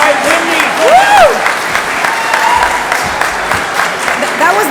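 A crowd at an annual meeting claps and cheers for its board chair, with steady broadband clapping and several bright whoops and shouts from the audience.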